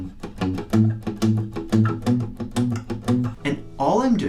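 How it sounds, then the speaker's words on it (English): Acoustic guitar plucking sparse bass notes of each chord in a four-chord pop pattern, a steady rhythmic series of close notes followed by a brief bit of speech at the end. "And all I'm doing there is playing a bass note."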